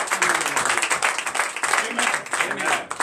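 A church congregation at a French-language worship service claps and cheers, loud and close, the applause surging in waves with raised voices mixed in.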